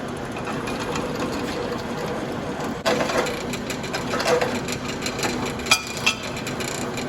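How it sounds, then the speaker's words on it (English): A step drill bit boring out holes in a steel crossmember for a 1969 Firebird T56 transmission swap, giving a steady close grinding whir with a few sharp knocks and clicks near the end. "let's go ahead and get it drilled to fit this 5/8 impact socket"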